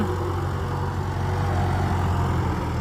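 A red Massey Ferguson MF440 tractor engine runs steadily with a low, heavy diesel drone, continuous and close with no talking.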